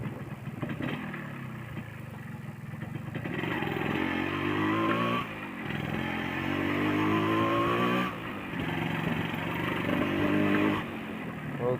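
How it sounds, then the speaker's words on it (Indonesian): A 135cc motorcycle engine revs hard in repeated surges with short dips between, loud and close throughout, on a nighttime ride through a forest. "Geber-geber manja guys."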